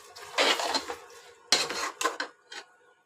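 A metal spoon scrapes and clatters against a pot while rice for spicy pulao is stirred and fried, giving several close, sharp bursts of clanking with short pauses between, and no talk.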